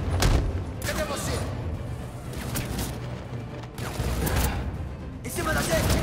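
Gunfire rattles in Batman: Arkham Origins in several loud bursts of rapid shots, separated by short pauses and mixed with mechanical clatter, while excited voices talk over the action.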